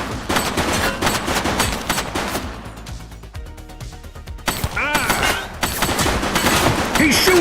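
Rapid bursts of automatic gunfire from the police game The Precinct, dense rattling volleys that pause briefly midway and then resume, loud and close, with a voice talking over the shooting.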